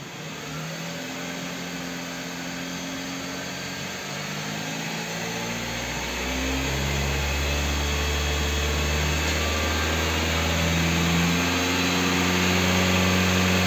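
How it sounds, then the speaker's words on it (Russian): A Kia K5 engine after connecting rod bearing replacement, idling and then smoothly revved up to about 4000 rpm, the hum rising in pitch and holding as a loud, steady drone, with no talking. "Урмат, плавно до 4000 подними обороты газу, дай."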